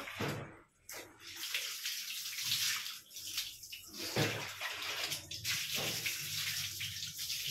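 Water runs and splashes steadily while two dogs are bathed outdoors in Zambales, a continuous gushing rinse with brief breaks and shifts in flow, close and loud.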